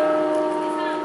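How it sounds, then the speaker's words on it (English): A church bell rings in the Old Market Square in Nottingham, a loud, sustained metallic tone with shimmering overtones that holds steady through the short moment. "For whom the bell tolls."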